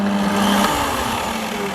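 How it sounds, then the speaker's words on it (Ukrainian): A Parkside PTBM 710 A1 drill press motor spins at top speed, a close, steady electric whine with a strong hum that dips slightly partway through, running alone. "Майже 2800 обертів фіксуємо на максимальній швидкості і 800 обертів на мінімалках"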